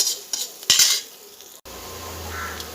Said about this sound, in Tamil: இதையெல்லாம் ஒரு நிமிஷம் நல்லா வதக்கிக்கலாங்க